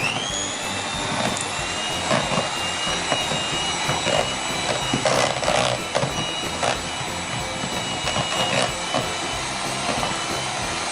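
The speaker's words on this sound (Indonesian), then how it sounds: "Pertama kita kocok dulu mentega sama ininya vanila ya." An electric mixer beats butter and vanilla with a steady, loud motor whine and high tonal hum, broken by irregular scraping clatters as the beaters knock around the bowl, with no voices.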